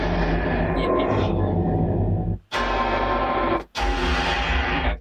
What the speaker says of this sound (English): impacts and stuff like that